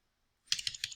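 A few quick keystrokes tap on a computer keyboard, close and quiet, arriving as a short burst of four or five clicks after a moment of silence.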